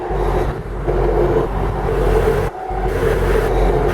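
A 1998 Chevy Corvette engine runs at idle, a steady low rumble close by with slight fluctuations and two brief drops in level, no voices over it.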